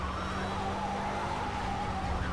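A race car in the Project Cars racing game brakes hard and skids into the pit lane, a sustained loud engine drone and tire scrub holding steady throughout with no speech.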